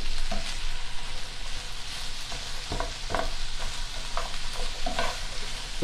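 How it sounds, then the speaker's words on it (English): Onions are stir-fried in a pan with constant stirring, a close, steady sizzle punctuated by intermittent scraping strokes of a utensil, no voices. "I'm doing more of a stir fry than a saute. I'm stirring it all the time."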